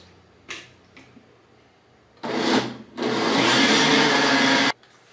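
A blender whirs loudly through a mango gelatin mixture, with two short pulses and then a sustained run of about two seconds that stops abruptly, after a couple of faint taps.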